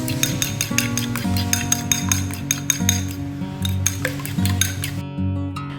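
Eggs beaten in a bowl for sweet bread dough: a steady, fast run of clinking whisk or fork strokes against the bowl, loud and close, with no voices.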